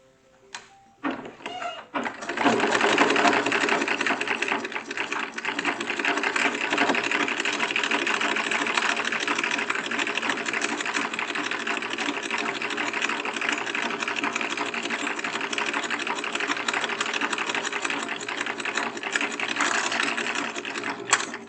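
A 1907 sewing machine stitches the backs of a mock-up gown, a fast continuous mechanical whirr and clatter that starts after a few brief hesitant bursts and then runs loud and steady to the end.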